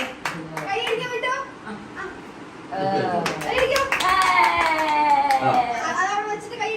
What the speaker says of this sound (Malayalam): കൈ ക്ലാപ്പ് ചെയ്ത് കൊടുക്കുന്നു